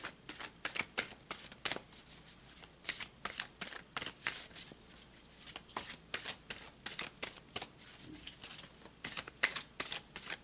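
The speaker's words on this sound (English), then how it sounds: "Let's pull some more cards." Tarot cards being shuffled by hand, a quiet close-up series of crisp riffling flicks and taps in irregular bursts, with no talking.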